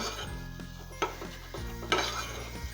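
Butter melting in a pan for béchamel sauce gives a soft, steady sizzle close by, with a couple of sharp utensil clinks against the pan over low kitchen hum.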